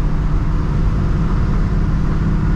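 Continuous heavy drone from a 1970 Chevrolet Nova Yenko Tribute on the move, its deep engine rumble blended with road noise at a constant, loud level.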